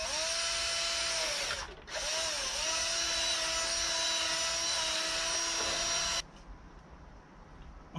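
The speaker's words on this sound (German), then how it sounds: "ihr setzt euren Bohrer an, bohrt meinetwegen genau in der Mitte ein Loch rein" A power drill bores a hole through the center of a plastic bottle cap, giving a loud steady whine with a brief dip as the bit catches, then a sudden cutoff into quiet room noise.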